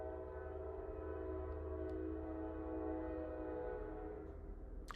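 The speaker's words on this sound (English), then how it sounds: "the train is making its own cameo again" A train passes continuously at some distance with a steady low rumble and a sustained tonal drone, like a long horn or wheel whine, holding at an even level throughout without speech.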